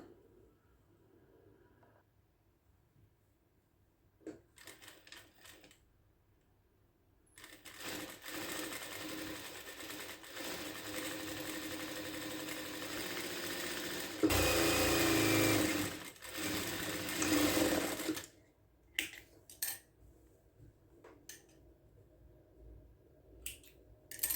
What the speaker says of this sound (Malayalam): ആദ്യം ചെയ്യേണ്ടത് ഈ ഒരു ഭാഗം സ്റ്റിച്ച് ചെയ്തെടുക്കുക